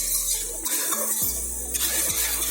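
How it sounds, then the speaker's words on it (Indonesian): Chili sauce with palm sugar stir-fried in a pan for spicy crispy salted fish balado: constant close sizzling with a spatula scraping and clinking against the pan, no voices. "Kita tumis hingga gula merahnya semua larut ya"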